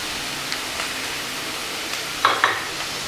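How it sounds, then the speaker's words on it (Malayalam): Onions sizzle gently in a hot pan of oil, with soft continuous frying hiss and a few brief scraping stirs of a spoon near the end, no talking. "അപ്പോൾ സവാള പെട്ടെന്ന് തന്നെ വഴന്ന് കിട്ടും"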